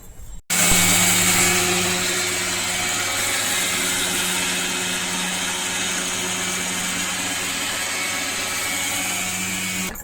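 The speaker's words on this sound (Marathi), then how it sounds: "पोहे आपण बारीक करून घेतलेले आहेत, एकदम आपण रव्यासारखे." A kitchen mixer grinder whirs at full speed grinding poha (flattened rice) into a fine powder, a loud, steady high-pitched motor whine that starts abruptly and continues alone, close up.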